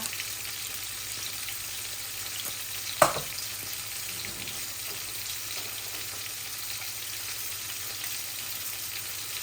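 Whole bay leaves and cumin seeds fry in hot oil, tempering for a tilapia curry with cabbage and cauliflower. A steady, close sizzle carries on throughout, with one sharp pop early on and no voices.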